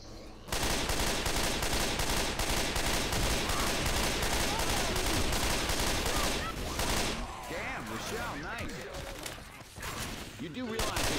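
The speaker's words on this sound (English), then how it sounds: "You do realize you're shooting" Sustained rapid gunfire from Left 4 Dead 2 co-op play rattles on loud and dense for most of the stretch, then thins into scattered shots with voices talking over it.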